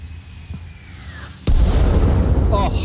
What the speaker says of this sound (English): Oh, the mortars are starting again.